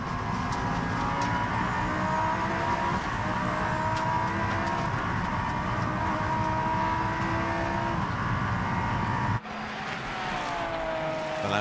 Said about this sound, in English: The Lamborghini heads up towards Les Combes